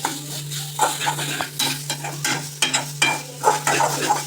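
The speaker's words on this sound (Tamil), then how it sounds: "தேங்காய் திருவி கொஞ்சம் வறுத்து வைக்கணும். நெய் விட்டு வறுத்து வைக்கணும்." Grated coconut roasting in ghee, a soft continuous sizzle broken by repeated scraping and stirring strokes of a utensil against the pan, coming in uneven bursts at close range.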